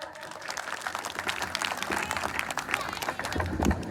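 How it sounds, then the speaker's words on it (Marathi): A crowd applauds steadily after a young girl's speech at a village event, dense clapping filling the space throughout, with a faint voice near the end. "सर्वांनी तिच्यासाठी जोरदार टाळ्या अशा वाजवा"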